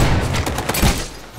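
Heavy gunfire fills a big firefight in the Ghost Recon Alpha film, a dense fusillade of overlapping shots and booming thuds rolling continuously without a break.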